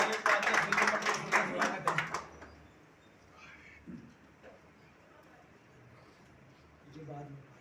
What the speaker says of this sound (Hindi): एक बार जोरदार तालियां भाई अगेन